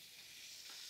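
Butter sizzles in a hot frying pan, a brief, steady, faint crackling hiss heard close with no voices.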